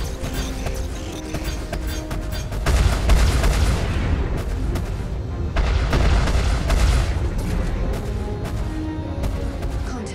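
Aircraft guns fire in the Hornet flight simulator game, loud bursts of gunfire among booming impacts over steady engine and cockpit noise, with two heavier barrages in the middle.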